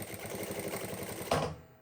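A Jack A5E industrial computerized sewing machine runs with a soft, quick, even stitching rhythm, quiet and close. A brief louder clunk comes near the end before the machine falls silent.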